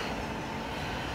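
Amsterdam metro train running, a steady broadband rumble of wheels and carriage noise heard from on board, continuous and fairly loud for the whole moment with no voices.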